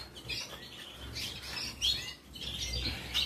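Goldfinches and canaries chirp in an aviary, with many small birds tweeting and trilling together in quick overlapping calls. The sound is soft and close and continues throughout with no talk.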